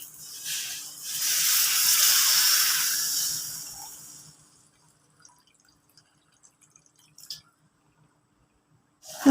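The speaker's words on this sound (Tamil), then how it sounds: "தேவையான அளவு தண்ணி ஊற்றிக்கலாம்." Water pours into a pan of Tamil-style egg gravy with a rushing splash for about four seconds. A few faint, scattered drips and small clinks follow in near silence.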